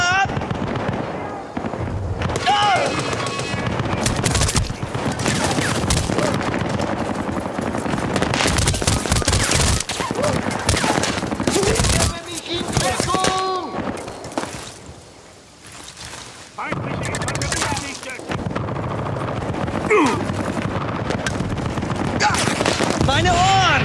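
Heavy gunfire in the Xbox 360 shooter Battlefield: Bad Company, dense bursts of automatic and rifle fire with booming impacts that carry nearly continuously, with shouted voices heard through the battle.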